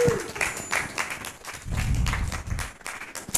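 Audience at a startup pitch event applauding the top three rated startups, a moderate burst of scattered clapping with uneven swells over a few seconds.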